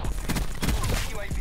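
Rapid bursts of gunfire in a Black Ops 4 multiplayer match on Nuketown, a quick string of sharp shots with a faint voice mixed in, moderately loud over the game's background noise.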